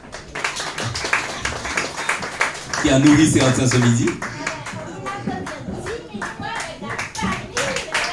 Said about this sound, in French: Donc on applaudit aussi Race l'ensemble